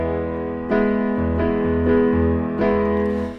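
Piano plays a repeated rhythmic figure, chords struck in a steady pattern with a low bass note returning between them.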